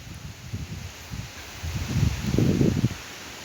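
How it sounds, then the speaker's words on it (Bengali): Strong wind blows across open green fields ahead of a rainstorm, coming in low, rumbling gusts that build and buffet louder toward the end, with no one talking. "এবং দেখুন কি পরিমাণ বাতাস"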